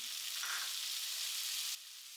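Onions frying in a pan for egg bhurji give a steady, close, bright sizzle that runs the whole time and drops slightly softer near the end, with no one speaking.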